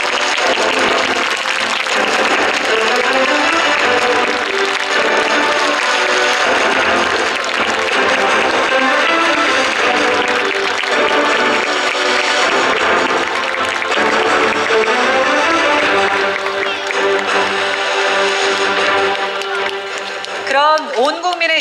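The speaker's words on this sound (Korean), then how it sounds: "큰 박수로 환영해 주시기 바랍니다" An audience applauds as the lead torch bearer of the Independence Torch enters the stage at the 100th anniversary ceremony of the Korean Provisional Government, sustained loud clapping with music and an announcer's voice over it.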